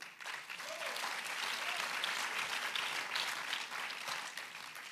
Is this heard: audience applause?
yes